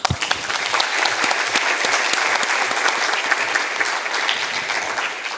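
A crowd at a college poetry event claps vigorously, a dense, loud roll of many hands with scattered sharp claps, sustained evenly for the whole stretch.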